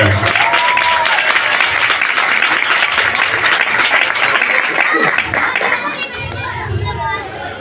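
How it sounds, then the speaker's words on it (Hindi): Loud, dense applause in a church during a Christmas celebration for children performing, with crowd chatter and children's voices mixed in; the clapping eases slightly toward the end. "जरा बच्चों के लिए ढेर सारी तालियां होनी चाहिए"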